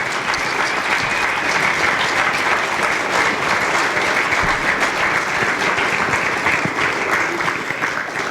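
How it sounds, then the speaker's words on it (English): The crowd at a Cincinnati mayoral debate applauds the candidates, a full and even wash of clapping that stays loud and unbroken from start to finish. "let's give all of our candidates another round of applause this evening"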